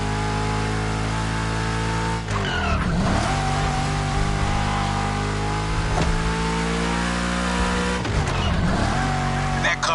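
A Shelby GT500 Jimbo Full Power Edition roars through The Crew Motorfest with loud, sustained engine drone, pitch climbing between gear changes and brief bursts of tire squeal around two and eight seconds.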